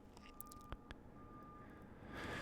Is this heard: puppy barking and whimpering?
no